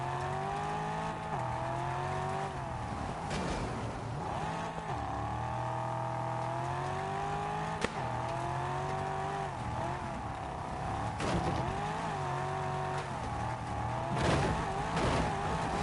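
A Porsche driven hard in the Test Drive Solar Crown racing game, engine howling steadily through rising and falling gear changes, with shifts and brief tire scrubs, loud and continuous.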